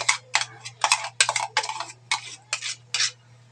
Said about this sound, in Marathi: आता मिक्स करून घेते